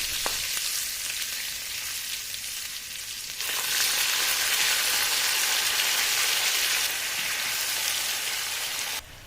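Mustard seeds, cumin seeds, chopped green chilies and ginger sizzle steadily in a tablespoon of hot oil, a dense continuous crackle that grows louder and brighter partway through and keeps going without any talk.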